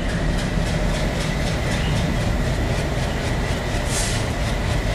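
Train from Train Simulator Bangladesh, a Bangladeshi coach-and-engine setup on the Rajshahi to Tangail route, running steadily on track with a continuous loud rumble and rhythmic clicking wheel beats.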